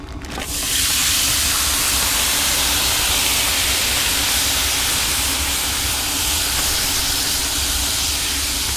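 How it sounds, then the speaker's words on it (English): Meat in a pan just pulled off the grill sizzles with a loud, dense, steady hiss that begins suddenly and stays constant, close up, with no voices. "I just pulled the pan off of the grill."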